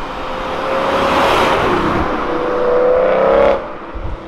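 Decatted BMW M3 V8 revving hard and echoing off nearby walls, a loud rising roar that holds, climbs again, then cuts off sharply near the end, with no talking.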